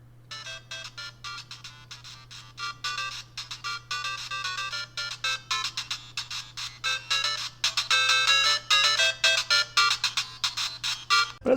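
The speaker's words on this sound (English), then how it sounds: "I'm going to hit the volume button and you're going to listen to the different levels" Chiptune game music from a handheld ODROID-GO console plays through its small speaker over a steady low hum, rapid beeping melody lines growing noticeably louder in steps as the volume is raised.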